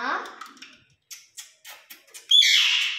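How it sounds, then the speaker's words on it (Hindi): A pet myna bird calls in a series of short, sharp squawks and chirps, ending in a louder sustained screech, close by indoors. "मैना"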